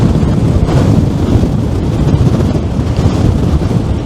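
Strong wind on the Blackpool promenade buffets the microphone in a constant loud, low roar with gusty fluctuations throughout, no voices over it.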